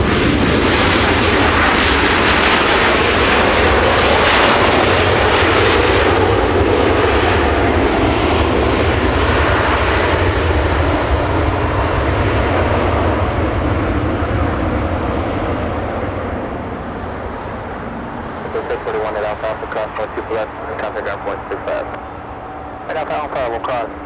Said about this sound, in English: Big 767 coming in as we continue Delta airline action.